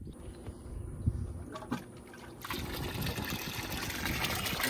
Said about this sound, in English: I've got the return hose pushed right here above the water, so hopefully whenever it's pumping it back in there